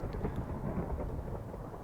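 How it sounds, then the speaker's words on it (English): Long rolling thunder in the blocky survival game Minecraft, a continuous low rumble with rain hiss that stays loud and steady throughout, with no voices. "that thunder just goes on and on and on"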